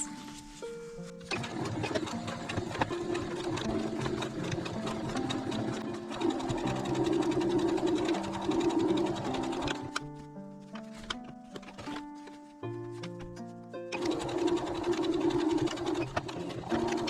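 Sewing machine stitching fabric for a zipper pouch, a rapid mechanical whir in several runs with short pauses between them, close and clear.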